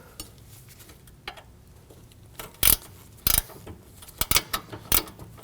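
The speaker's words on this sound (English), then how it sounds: "I'm going to use a ratcheting wrench" Ratcheting wrench tightening a rear sway bar link nut on a 2016-2022 Honda Pilot, with an Allen wrench holding the stud: quiet scattered metallic ticks, then several sharp, close clicking bursts in the last half.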